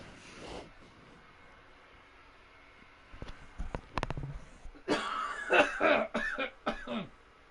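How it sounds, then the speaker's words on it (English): After a quiet start, a person coughs repeatedly in rough, uneven bursts, close and fairly loud. "I've got a really bad cough."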